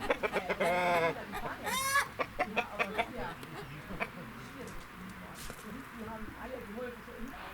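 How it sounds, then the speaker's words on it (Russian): An Orpington rooster clucks in short, repeated bursts with a brief crowing-like call, close by, while a person talks over the farmyard sounds. "Это Орпингтон, такая порода"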